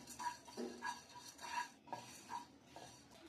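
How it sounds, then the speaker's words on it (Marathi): Coriander seeds being dry roasted in a pan, repeated light scraping and rattling strokes of a spoon against metal in a steady rhythm, close and quiet with no voices. "आपण याच्यामध्ये धने टाकून घेणार आहोत आणि धने पण भाजून घेणार आहोत।"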